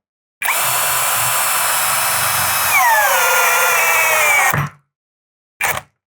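A power drill in second gear, drill mode, whines loudly and steadily for about four seconds, its pitch dropping as it bites into wood, then a short burst after a pause.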